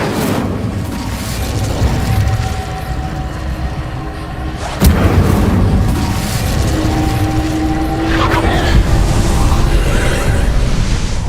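Casting the Incendio fire spell in the Hogwarts Legacy video game produces a sudden sharp burst and whoosh in the middle, set amid steady rumbling game ambience and other low effects.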